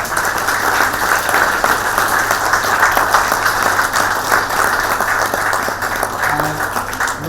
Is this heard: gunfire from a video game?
no